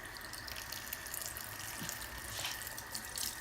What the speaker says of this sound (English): So I like to do this while the water is running.